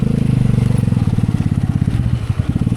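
A motorcycle engine idles up close at a campsite, its loud, rapid putter pulsing steadily for a few seconds.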